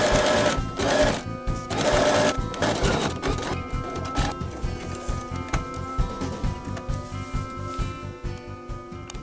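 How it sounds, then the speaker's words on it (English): A sewing machine runs in bursts, stitching a quarter-inch seam with back tacking at the start and end, its rapid needle chatter loud and close, with short pauses between runs. "we'll go to the machine and sew"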